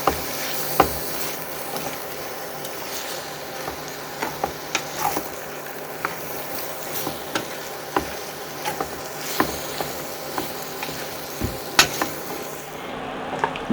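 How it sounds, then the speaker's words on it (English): Onions, garlic, flour and beef are stirred in a Dutch oven on an induction cooktop, with a soft sizzle under repeated scraping and clinking of the spoon against the pot. "We're just stirring all that up, mixing the onions and the garlic and the flour."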